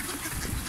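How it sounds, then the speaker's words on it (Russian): Ducks quacking and honking as they crowd in to be fed bread at a well-fed spot, a brief burst of overlapping calls over noisy outdoor background. "Смотрите, как утки накидываются на хлеб."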